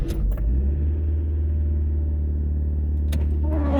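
A Mazda 323F engine heard close up from inside the car, a loud, steady low rumble that holds fairly even with only slight rises in revs, with brief clicks near the start and end.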